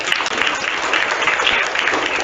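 An audience at a zonal-level school quiz competition claps for the assistant quiz master, a steady, fairly loud wash of applause that holds evenly for a couple of seconds.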